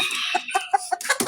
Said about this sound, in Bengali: এখানে দুইটা মুরগি আছে, একটা হলো লেয়ার আর একটা হলো কক।